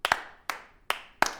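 Four sharp, close hand claps, some doubled, come at a slow, uneven pace with short gaps between them, sounding like a sparse slow clap.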